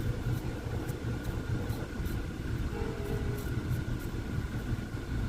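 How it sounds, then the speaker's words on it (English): A train rumbles steadily nearby, a continuous low mechanical roar with faint rhythmic clatter and no talking. "Why do I hear a train?"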